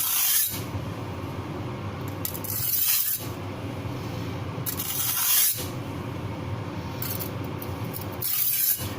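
A knife is drawn across a sharpener in slow, even strokes: about four long, airy scraping swishes spaced a couple of seconds apart, close and quiet, with no talking.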